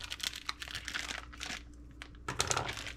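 Scissors cut open the plastic packaging of a spiral-cut ham, giving close, continuous crinkling and tearing of plastic with bursts of rustling and a louder crackle near the end.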